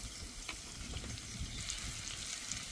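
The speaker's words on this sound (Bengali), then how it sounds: "অল্প একটু জলও দিয়ে দেব, এতে করে মশলাটা পুড়ে যাবে না।" Spices sizzle and fry steadily in a pan for a Bengali potato and pointed gourd curry with chana dal, a low crackling hiss running throughout with small splutters after a splash of water.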